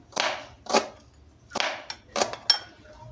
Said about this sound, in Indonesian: kita potong-potong bawang merah